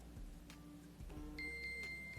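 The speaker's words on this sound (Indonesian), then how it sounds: "Oke, bunyi-bunyi ya iPhone saya." An iPhone beeps after being triggered by a smartwatch Find Mobile function, a short series of thin, high electronic tones rising over a faint background hum near the end.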